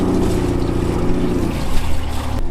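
A boat engine throttles as the boat backs slowly off a dock, a loud, steady low drone up close that shifts slightly in tone near the end.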